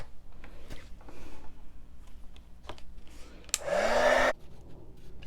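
A hair dryer bursts on for under a second to dry mixed media paint on a winter journal tag. Its loud, close rushing whoosh follows a few soft handling clicks and taps.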